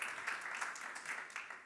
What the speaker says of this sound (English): a round of applause for the people on Link and on